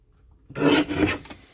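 A paper trimmer slices cardstock for a card kit, giving one short rasping cut about a second long that rises abruptly from near silence and fades, close and alone.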